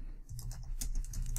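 Quick bursts of keystrokes on a computer keyboard, a short run of light, close clicks typed quietly with no voice.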